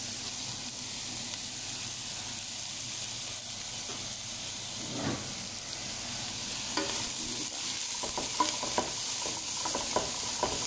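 Onions sizzle steadily in hot oil for majboos, a close, continuous frying hiss with occasional stirring clicks and pops growing more frequent toward the end.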